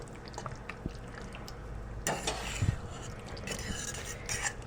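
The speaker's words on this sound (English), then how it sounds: "I don't see any gobs of it anymore, but I'll keep stirring just in case." A spoon stirs spice into a thick mixture in a bowl, soft scraping punctuated by a few sharper knocks against the side and a louder clatter midway, close and without talk.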